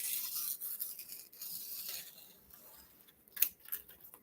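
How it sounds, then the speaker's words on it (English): Metal scissors snipping open and shut during a hair styling session, a few quiet scattered metallic clicks and rasps, one sharper snip near the end. "Simply opening the scissors."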